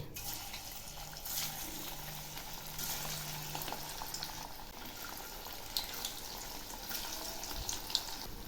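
Mustard-flower fritters are dropped one by one into hot oil in a wok. A quiet, steady sizzle of frying runs throughout, with a few soft clinks and no talking.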